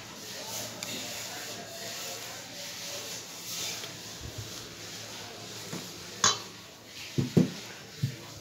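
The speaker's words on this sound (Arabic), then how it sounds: "وكنحركو" A spoon scrapes and stirs millet bread batter mixed with olive oil and salt in a bowl, with steady soft rubbing that ends in a few sharp utensil clinks against the bowl.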